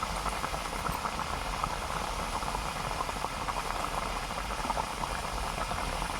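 Koi fish curry with spinach bubbles at a steady, continuous boil on a clay village stove, a dense rolling simmer that stays even and fairly close throughout with no voices.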